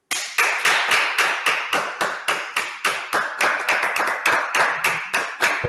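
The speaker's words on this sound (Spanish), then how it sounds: "un aplauso enorme para ti por todo este regalazo que nos has hecho en esta mañana" An audience at a national volunteering gathering claps in unison, a loud, steady rhythm of sharp, crisp beats about four per second that keeps going without pause.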